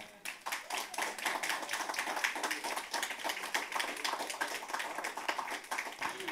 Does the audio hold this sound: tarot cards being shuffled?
no